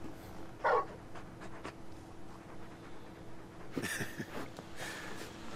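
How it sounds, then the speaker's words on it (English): A large dog in the video game Final Fantasy XVI giving a short whimpering yelp, then a few softer panting and whining sounds, faint over a quiet game background. "You're just a big puppy, aren't you? A very big puppy."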